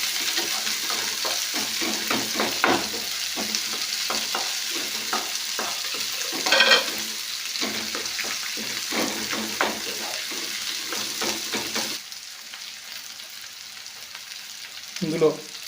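Thinly sliced onions and green chillies fry in a pan with a steady close sizzle, broken by repeated stirring scrapes; the sizzle drops away near the end, followed by a brief clatter.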